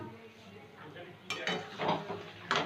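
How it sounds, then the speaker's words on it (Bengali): A metal lid is lifted off a pot of simmering chicken curry, giving a few sharp clinks and scrapes that grow louder near the end over a low background hiss, with faint voices in the room. "5 মিনিট পরে ঢাকা তুলে নিলাম।"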